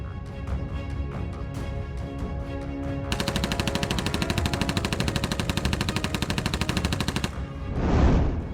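Gunfire in combat near Pokrovsk during a mine assault: scattered loud shots give way to a sustained rapid machine-gun burst lasting about four seconds, then a rising whooshing roar at the end.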